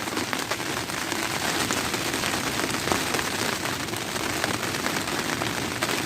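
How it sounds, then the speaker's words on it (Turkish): Heavy storm rain drums steadily and loudly on a taut tent surface in Anamur, Turkey, a dense, unbroken hiss and patter close overhead. "Acayip yağıyor ya."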